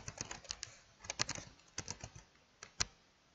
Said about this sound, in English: we're going to type in control panel